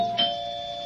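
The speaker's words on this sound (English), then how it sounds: "Who's that? Doorbell." A single electronic doorbell chime rings out clearly, its tone sustaining and slowly fading with no voices present.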